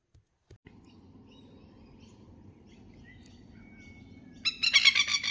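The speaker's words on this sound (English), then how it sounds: "I'm being swooped by birds this morning." Birds call outdoors on a sunny morning, swooping close. A quiet bed of faint chirps and insect-like hum gives way near the end to a loud burst of sharp, close chirping.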